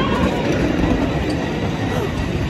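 A tram on street rails in South Korea rumbles past close by, a steady, loud rolling wheel-on-rail noise with no pause for the whole stretch.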